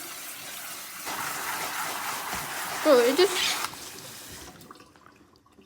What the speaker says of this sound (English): Now, you want to get some cold water and just rinse it like that.